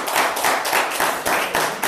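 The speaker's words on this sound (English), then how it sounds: "Give the Lord a hand clap." A church congregation claps in a steady, even rhythm, about four loud claps per second, with no voices over it.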